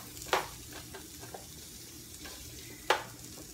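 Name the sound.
onion sautéing in oil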